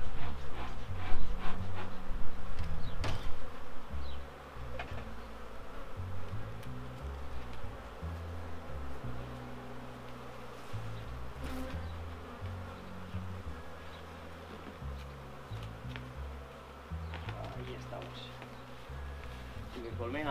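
Honey bees buzzing around an open beehive as smoke is puffed in and a super is set in place, a dense, steady swarm hum up close with scattered handling knocks and no talk.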